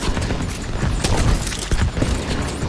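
Dense, continuous gunfire and booms from The Division 2 as players shoot oxidizers in a college farming area, rapid overlapping shots forming a loud, busy wash of combat noise with no talking.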